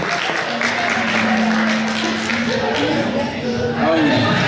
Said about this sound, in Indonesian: Kita berikan aplaus sekali lagi Pak yang bersama-sama